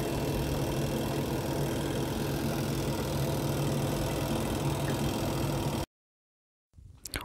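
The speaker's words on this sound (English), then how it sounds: "And now here is the noise of the spinner when drying and when rinsing your clothes." Von twin tub washing machine spinner running while drying and rinsing clothes, a steady droning motor hum with vibration, loud and constant for about six seconds before stopping abruptly, followed by faint handling noise.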